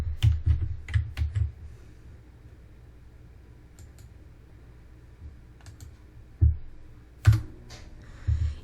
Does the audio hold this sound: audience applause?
no